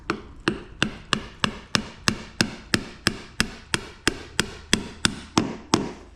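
A hammer strikes a heavy Ford hybrid transmission part in a repair shop, about eighteen sharp metallic blows in a steady, even rhythm, close and alone without talk.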